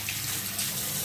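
Water running steadily from a tap, a continuous broadband rush with no talk, heard close by while rinsing during a stencilled mouse pad craft project.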